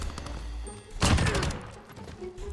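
Gunfire in Call of Duty: Modern Warfare, a dense burst of automatic shots peaking in the middle, fairly close, with softer shooting around it.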